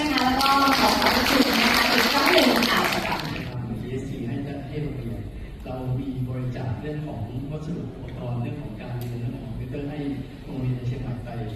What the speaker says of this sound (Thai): ขอเชิญปรบมือให้กับทุกท่าน